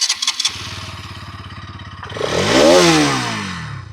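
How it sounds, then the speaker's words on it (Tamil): A few clicks, then a motorcycle engine with a loud exhaust cranks in a rapid rhythmic chug before catching and roaring up loudly through the exhaust, then settling. "ஏன்னா லவுடான எக்ஸாஸ்ட் இருக்குது. நான் ஸ்டார்ட் பண்ணி காமிக்கிறேன்."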